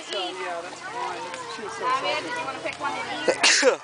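People talk, and near the end a sharp burst of a sneeze rises above the voices.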